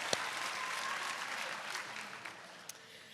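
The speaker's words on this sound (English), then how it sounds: "we need to give them all the applause all night" Faint, distant applause from a graduation ceremony audience, a soft continuous patter of clapping with a couple of brief sharper claps, heard from afar.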